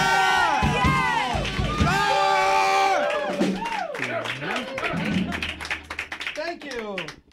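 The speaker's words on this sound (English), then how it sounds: "Oh wait, applause, applause." A comedy show crowd breaks into applause and cheering at the end of a set, loud and dense with shouts, while someone speaks over it.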